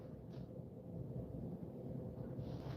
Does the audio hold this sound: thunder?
yes